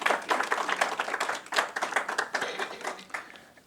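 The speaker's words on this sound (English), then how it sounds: "let's give him a round of applause" A small audience at a women's empowerment event claps for an honoree, individual hand claps clearly distinct in a brisk uneven rhythm, moderately close and not very loud.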